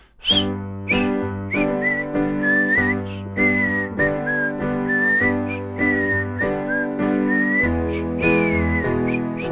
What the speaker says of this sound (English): we have the outro, the whistling section. That's gonna sound like...